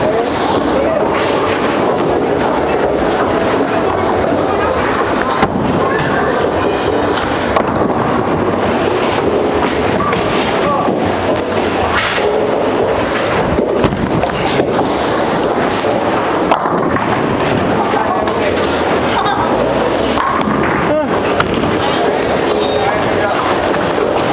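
A Darkside hybrid bowling ball rolls down a lane at a bowling alley in a long continuous rumble, with busy alley noise, clatter and some voices around it.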